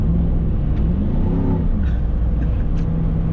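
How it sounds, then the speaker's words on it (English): LS V8 engine rumbling steadily from inside a car while driving, a continuous low drone with a brief swell as it pulls, no talking. "You get to hear the lovely sound of my voice and the LS rumble"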